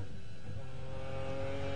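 McLaren F1 GTR race car at Le Mans, its engine droning loud and close with a steady, rich tone as it comes down through the gears into fourth, sustained without a break.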